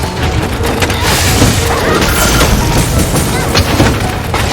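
A charge blade morph slash in Monster Hunter lands as loud, dense booming crashes and heavy impact effects. The clip is continuous, busy game combat audio throughout.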